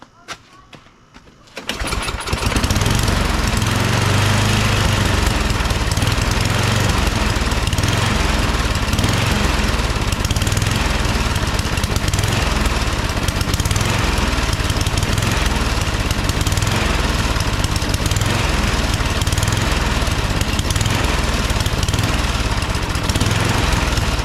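A Yard Machine 8 horsepower two-stage snowblower engine fires up after a brief quiet moment, then runs loud and close with a rough, uneven, surging roar throughout.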